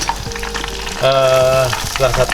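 Steady sizzling of chicken karaage deep frying in hot oil, close and fairly loud, with a sustained tonal hum rising over it midway.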